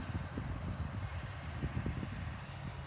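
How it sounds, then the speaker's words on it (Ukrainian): A tractor sows an autumn buckwheat field, its engine a steady low rumble throughout with no talking, heard at moderate distance. "Наш тут трактор їде і сіють."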